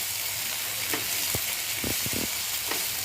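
Masala frying in a pan for Andhra fish pulusu: a steady, soft sizzle fills the whole span, with a few scraping stirs of a spoon breaking through near the middle.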